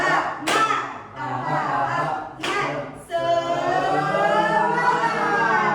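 A class at a special-needs school claps out the tepuk semangat spirit clap, sharp hand claps in a short burst followed by the group chanting together in loud, sustained voices, fairly close.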